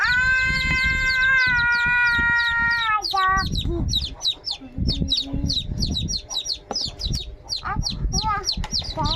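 Chickens cluck and chirp close by in a steady stream of short calls, with a long rising call at the start, while people talk and a voice is heard in between.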